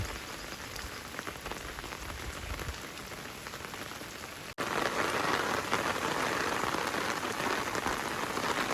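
Steady rain patters on surfaces the day after Cyclone Dana, a continuous dense hiss that briefly cuts out and resumes slightly louder.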